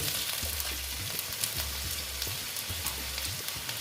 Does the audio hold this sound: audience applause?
no